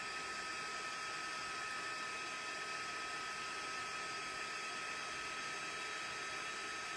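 A heat tool blowing steadily while it melts gold embossing powder on a handmade card: a constant, fairly faint, hissing airy whir that runs unbroken and close, with no speech.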